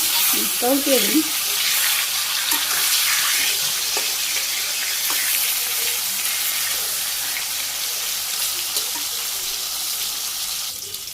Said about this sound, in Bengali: মাছ দিয়ে দিই ভাজতে